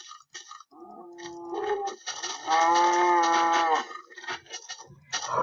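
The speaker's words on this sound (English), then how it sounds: "Oh, it's cows," Minecraft cows mooing in the game, several drawn-out, low lowing calls that overlap and swell, the loudest one held for over a second, with short clicks and game noises between them and no speech.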